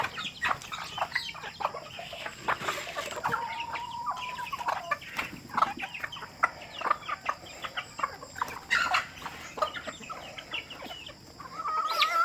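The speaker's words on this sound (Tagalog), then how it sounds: "alaga natin mga manok dito sa bukid" Chickens cluck and chatter steadily close by on a farm, with busy short calls overlapping throughout and no voices.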